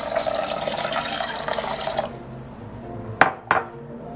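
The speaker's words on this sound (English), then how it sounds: "I'm going to put the rest of water and get that started." Water pours steadily into a pot for about two seconds, then stops; two sharp clinks follow near the end.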